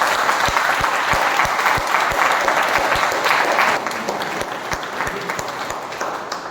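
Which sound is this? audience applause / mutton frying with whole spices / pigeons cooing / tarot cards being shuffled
audience applause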